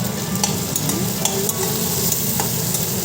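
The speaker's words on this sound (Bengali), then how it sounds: "এখন রান্না করছি করলা ভাজা হলুদ মাখিয়ে নিয়েছি" Bitter gourd slices coated in turmeric frying in oil, a steady close sizzle with occasional light stirring clicks and scrapes throughout, no voices.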